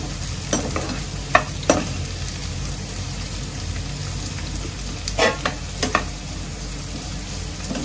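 Onions sauté in hot oil in a pan over a medium flame, giving a steady soft sizzle with a few sharp scraping stirs of a spoon at intervals, heard alone without talk.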